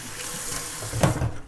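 Tap water runs steadily into a kitchen sink while items are rinsed clean during sauerkraut making, with a brief louder splash and clatter near the end.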